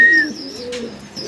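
Pigeons on a pigeon farm giving a brief soft coo and chirp, close by, with no one talking.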